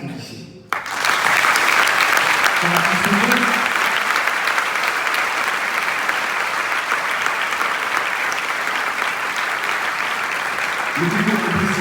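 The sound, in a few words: audience applause at festival opening ceremony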